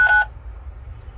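A phone call ends with a short, single electronic tone from a machine that takes calls, followed by a low, steady hum.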